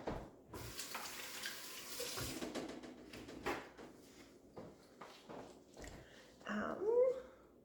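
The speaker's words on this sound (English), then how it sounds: "I'm going to rinse my hands real quick here." A running kitchen tap splashes as hands are rinsed beneath it, a steady close wash of water with clattering bursts, soft handling noises and a brief squeak near the end.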